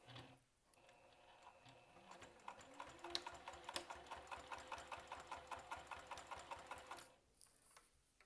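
A sewing machine runs a steady, rapid stitching rhythm on a crossbody bag at 3 mm stitch length, starting and stopping with clear ticking pulses close by and no talking.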